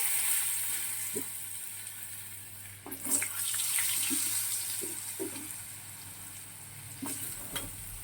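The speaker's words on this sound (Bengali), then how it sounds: "এবারে আলুটাও ভাজবো আলাদা করে" Potatoes fry in hot oil in a kitchen with a steady hiss and a few light clinks of a utensil, close but moderate in level, with no talk.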